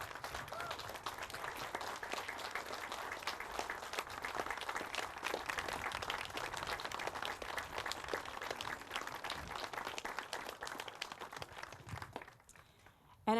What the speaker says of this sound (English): give them a round of applause and a standing ovation